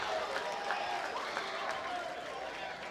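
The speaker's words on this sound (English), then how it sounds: "We're hearing chants from the crowd. Crowd is just into it." A crowd at a college basketball game roars, chants and cheers in a dense, steady wash of noise that stays loud from start to finish.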